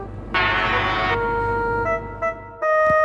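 A tugboat horn sounds in loud, sustained tonal blasts, a rich harmonic honk first, then a thinner, steady tone, stopping and restarting briefly near the end.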